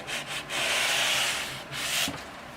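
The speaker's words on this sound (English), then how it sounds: "I'm trying to sand the shape of the guitar down into something different." Edges of a Glarry jazz bass body being sanded by hand, rough rasping strokes in a rhythm of long and short passes, close and fairly loud, with short pauses between strokes and no voices.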